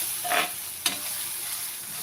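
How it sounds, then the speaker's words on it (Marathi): Cowpea pod vegetable and crushed peanuts stirred in a pan, a soft quiet sizzle with a brief scrape early and one sharp clink of the spoon near the middle. "आता हे आपण छान मिक्स करून घेणार आहोत"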